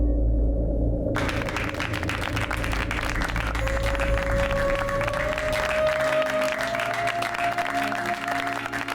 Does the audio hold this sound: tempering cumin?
no